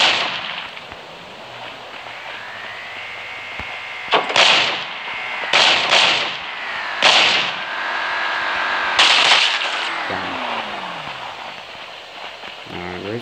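Rapid bursts of video game gunfire crackle over a steady background hum, with several loud volleys spaced a second or two apart. Occasional voice sounds come through between the shots.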